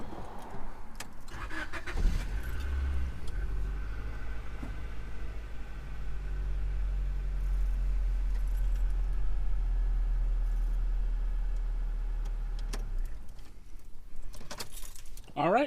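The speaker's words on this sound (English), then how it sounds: "start the car, let it run for like 5 seconds" A Honda Civic del Sol B16 engine cranks and catches, then settles into a steady low idle for about ten seconds before shutting off, with a few clunks around it.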